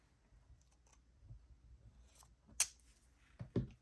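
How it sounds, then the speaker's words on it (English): Ceramic-bladed scissors snip through paper in a quiet room, with one sharp close cut followed by a couple more quick snips near the end. "These scissors are from Slice. Y'all, they're so good. They're ceramic blades"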